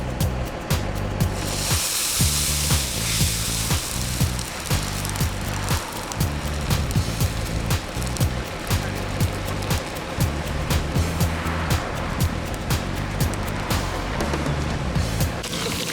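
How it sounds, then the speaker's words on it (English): A fully frozen turkey plunged into overheated oil in an overfilled pot, giving a loud, continuous roaring hiss and churning boil that holds steady for the whole stretch, close and without talk. "we introduced a fully frozen turkey into oil that was way too hot in a pot that was way overfilled"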